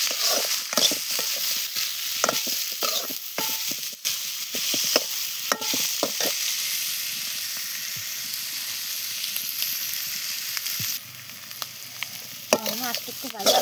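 Onion and fish fry in a pan with a constant crackling sizzle, broken by clattering scrapes and knocks from stirring, near and fairly quiet, with no talk.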